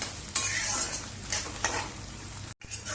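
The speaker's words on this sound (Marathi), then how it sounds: "कांदा सुद्धा आपल्याला चांगला तेलामध्ये परतवून घ्यायचा" Onion fries in hot oil with a constant close sizzle, broken by a few scraping stirs of a spoon and a brief pause near the end.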